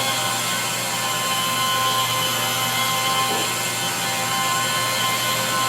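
A rotary buffer fitted with a foam pad runs at its lowest setting, 600 RPM, giving a constant loud whirring drone with a steady hum that holds without a break.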